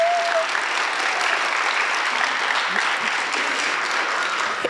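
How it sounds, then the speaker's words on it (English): Applause for students at a school spring concert, a dense, steady clapping that fills the room for the whole stretch with no pauses. "So a round of applause to them for their hard work this year."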